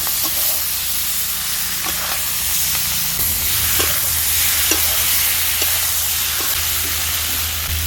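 Onion, ginger and garlic paste fries in hot oil while being stirred, a steady loud sizzle broken by repeated scraping strokes of a spoon against the pan, close by, with no talk.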